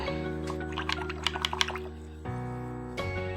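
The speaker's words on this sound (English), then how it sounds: "I'm going to rinse my brush really well, dry it." A paintbrush is swished and rinsed in a water container, giving soft splashes and drips over a steady background hum, with a few brief taps toward the end.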